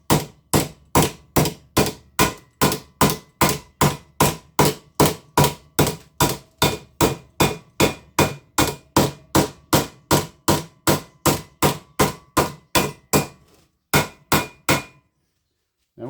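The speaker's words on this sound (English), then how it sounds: "I'm hitting it and pulling the hammer back at the same time." A hammer strikes rusted steel on a GMC door flange, about thirty sharp, evenly spaced metallic blows at a brisk steady rhythm, close and loud, before stopping abruptly near the end.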